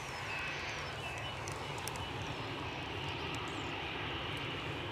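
Fixed-wing airplane on an airport runway, its engine roar a dense, constant broadband rumble at steady loudness throughout with no pauses or talk.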